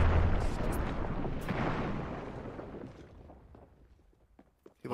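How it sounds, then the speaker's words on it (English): Thermite grenades go off in the battle royale game Apex Legends: a loud burst with a long rumbling, crackling tail that fades out over several seconds, ending with faint clicks. "Thermite grenade on it. Another nade."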